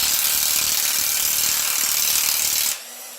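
Power tool whirring steadily while tightening engine bolts during disassembly of a custom build engine in a garage, loud and continuous for nearly three seconds before cutting off abruptly.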